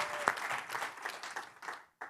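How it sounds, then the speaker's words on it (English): A hearty round of applause from the audience at an annual meeting and awards ceremony, dense continuous clapping at moderate level that fades out near the end with a brief final burst. "Let's give all of the individuals a hearty round of applause again."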